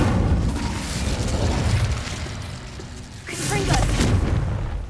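The Incendio fire spell cast in Hogwarts Legacy, a loud roaring whoosh of flame with booming low rumble that swells, dips briefly, then flares again, close and sustained.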